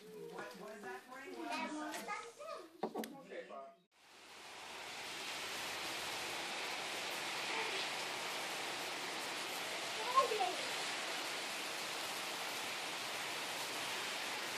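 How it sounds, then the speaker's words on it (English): Brief talking, then a steady, loud roar of wind and driving rain that fills the rest of the clip with only slight gusty swells. "you can see it's windy up there. Strong wind gusts and rain."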